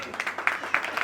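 An audience at a Jain community drama program in Delhi claps, a soft burst of scattered applause heard beneath someone speaking loudly into a microphone.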